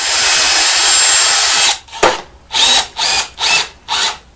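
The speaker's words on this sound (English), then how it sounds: "First I'm going to pre-drill the hole." A power drill pre-drilling a hole in wood whirs steadily for under two seconds, then runs in five short bursts separated by brief pauses, close up with no voices.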